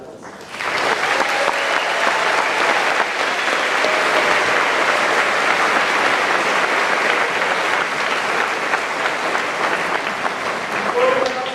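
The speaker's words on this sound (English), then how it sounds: "Please give one more round of applause for our graduates." A large audience applauds graduates at a senior awards and cording ceremony, a steady, loud wash of clapping sustained throughout, with some crowd voices mixed in.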